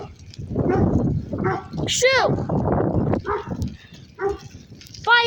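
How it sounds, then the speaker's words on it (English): Dogs barking and yipping a few times at mid distance during a rainy bike ride, the short barks mixed in with people talking nearby. "Dogs."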